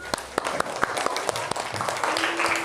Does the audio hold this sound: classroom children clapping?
yes